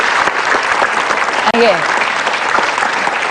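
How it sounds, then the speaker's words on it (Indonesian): Audience applause after a talk-show segment, a dense steady wash of clapping filling the whole moment, with a voice speaking briefly over it. "tepuk tangan buat Abah"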